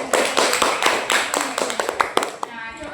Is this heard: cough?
no